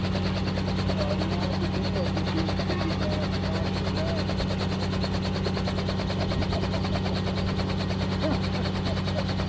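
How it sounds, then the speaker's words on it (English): A loud, steady helicopter roar with rapid rotor chop as it takes off in Girdwood, Alaska, fills the whole stretch, close by and unrelenting, with voices faintly underneath. "We'll let the helicopter take off so I don't have to talk over it"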